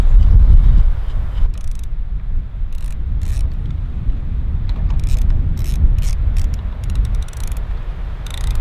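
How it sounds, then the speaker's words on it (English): A small ratcheting wrench clicks steadily in a rapid pawl rhythm while tightening little bolts underneath a pontoon boat trailer, close and fairly loud over a low rumbling background with gusts of wind noise. "fortunately I found this little ratcheting wrench in my dad's shop"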